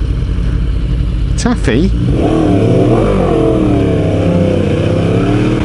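A decat Yamaha R1 motorcycle revving hard close by, with sharp rising and falling throttle blips before settling into a loud, rough engine drone, with a brief spoken word over it.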